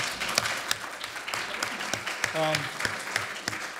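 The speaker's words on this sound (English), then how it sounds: "Let's give them all a round of applause." Scattered, fairly faint applause from a small audience at a college board of trustees candidates' forum, with individual claps standing out, a short tonal sound in the middle, and some voices underneath.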